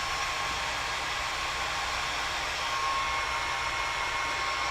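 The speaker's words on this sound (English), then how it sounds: "But now we're going to dry it with my blow dryer, not my heat tool." A hair dryer drying inked Yupo paper blows steadily at close range, a constant whooshing hiss with a low motor hum, uninterrupted throughout.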